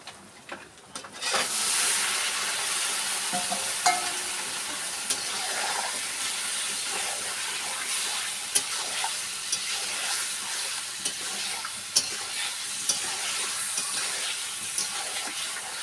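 Meat frying in a pan of cooked spice masala, a steady loud sizzle with soft stirring scrapes and small pops throughout, close by and without talk.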